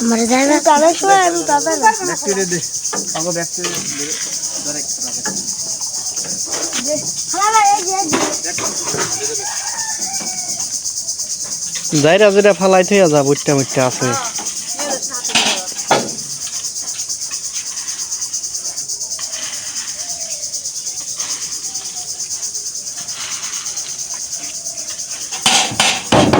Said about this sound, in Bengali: সেই শব্দটাই হচ্ছে ঝিঝি ঝিঝি মতো একটা শব্দ হচ্ছে